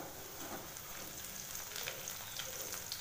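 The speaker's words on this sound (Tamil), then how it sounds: "மூணு பெரிய வெங்காயம் நறுக்கி அதில் நான் ஆட் பண்ணிக்கிறேன். நல்லா வதக்கிடலாம்." Three large chopped onions sauté in hot oil with a soft, steady sizzle and crackle, fairly quiet, and no one speaks.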